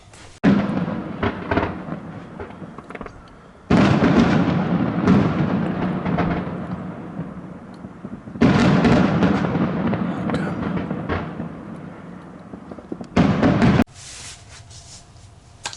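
Fireworks explode outside in four loud, rumbling bursts, each crackling and fading over several seconds, with quieter gaps between them.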